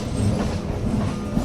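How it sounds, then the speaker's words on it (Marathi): A suburban train travelling between Thakurli and Kalyan, heard from on board as a loud, continuous low rumble with rhythmic wheel clatter and faint squeal, no voices. "अशा प्रकारे आपण ठाकुर्ली ते कल्याण दरम्यान रेल्वेने प्रवास करताना"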